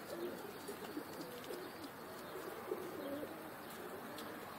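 Pigeons pecking at bread give soft low coos and a few chirps, faint and near, with occasional light wing rustles and no voices.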